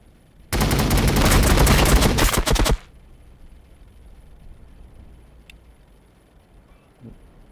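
A single loud, sustained burst of rapid automatic gunfire in Warhammer 40K Battlesector, roughly two seconds of dense rattling shots, followed by low ambient hum and a faint distant thud.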